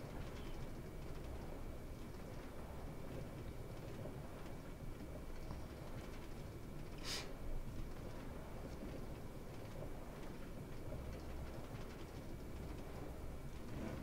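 A minecart rolls along rails in Minecraft as a continuous faint rumbling clatter lasting about fourteen seconds, with a brief sharp click near the middle.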